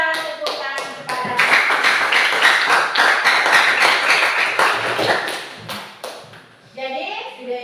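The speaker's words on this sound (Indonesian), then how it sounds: "Berikan tepuk tangan kepada." Classroom applause for a student who summarized the day's lesson, with sustained clapping from many children in a room, some isolated claps at the start and children's voices rising as it fades.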